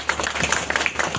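Audience at a disability day function clapping, a dense burst of many hands applauding together at close range, lasting just over a second.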